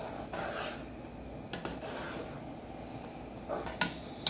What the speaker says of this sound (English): let's stir it one more time